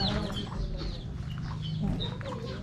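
Backyard chickens cluck intermittently at moderate distance over a steady low outdoor hum, with scattered bird calls and no talk.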